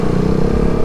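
Suzuki GSX S150 motorcycle engine while riding, a loud, close, steady drone with a dense low rumble that never lets up and no voices over it.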